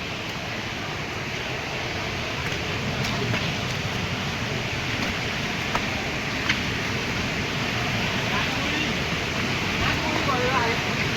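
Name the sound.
Savatkada waterfall flowing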